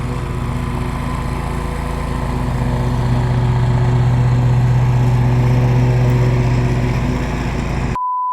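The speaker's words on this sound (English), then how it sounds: "We got my boy over here mowing the lawn" A lawn mower engine drones close by in a loud, steady hum that swells a little in the middle and then cuts off abruptly near the end.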